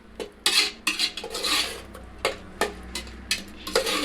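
Salt, chili powder, garam masala and turmeric are stirred into a cooking pan. A spoon clanks and scrapes against the metal in irregular loud bursts, with only a little sizzle beneath and no talking.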